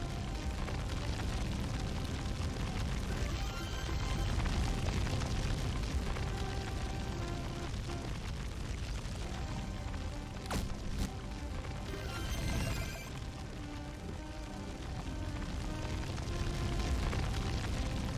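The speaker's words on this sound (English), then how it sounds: "That fire is so loud." A roaring fire in a video game, a loud continuous crackling rush that fills the whole span, with a few sharper bursts partway through and no talking over it.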